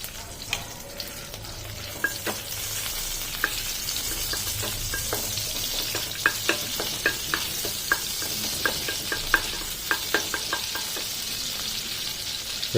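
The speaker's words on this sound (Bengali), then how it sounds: "এর মধ্যে অল্প পরিমাণ সাদা তেল নেব, আর এখানে বাটার নেব।" Butter melting into a little white oil in a hot pan gives a steady close sizzle, with frequent light clicks and taps scattered over the frying hiss.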